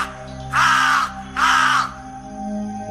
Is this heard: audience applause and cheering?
no